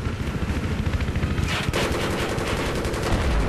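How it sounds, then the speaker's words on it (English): Rapid machine gun bursts from a strafing helicopter in the Battlefield 3 video game rattle loudly and continuously, sharpening into a denser volley partway through, with no voices. "I'll try and do a bit of strafing if I can."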